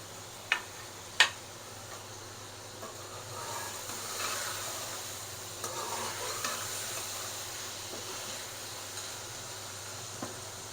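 Finely chopped tomatoes frying in a beef yakhni pulao pot, a quiet steady sizzle with two sharp clinks near the start and occasional soft stirring scrapes, faint and close, no talking.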